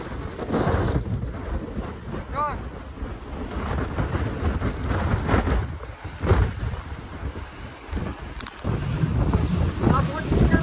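Powerful wind roaring and thudding against the microphone in heavy gusts on Girnar mountain near the Ambaji temple, loud and continuous, with faint voices caught under the rumble.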